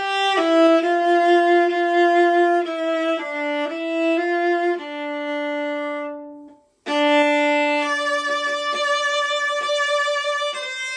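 Solo viola plays The Hope from measure 7, sustained bowed notes in a slow legato line with one brief pause before the phrase resumes, clear and close.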